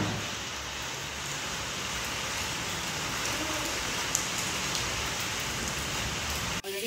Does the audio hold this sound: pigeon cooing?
no